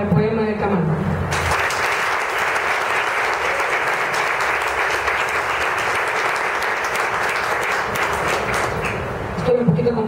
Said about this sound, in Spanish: Su aplauso para el poema de Kamal.